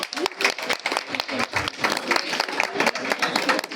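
Audience applause at a live comedy stand-up show, a dense burst of clapping from a crowd that holds steady for a few seconds with a voice briefly cutting through.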